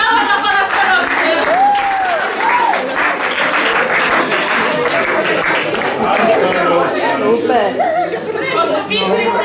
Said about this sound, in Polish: Brawa dla pana starosty.